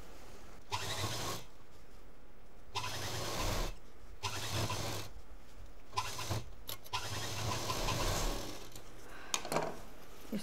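A sewing machine stitches a fabric shopping bag around a curved seam, its motor whirring in several bursts of a second or two, separated by short quiet pauses, close and steady.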